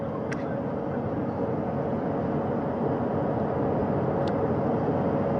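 A recovery helicopter hovers at a distance during an Artemis II astronaut pickup at sea, giving a steady, loud, unbroken rotor and engine roar that holds level throughout.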